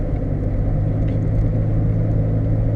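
A car fitted with Raceland coilovers driving on a road, a steady low rumble of engine and road noise running continuously and fairly loud, with no talking.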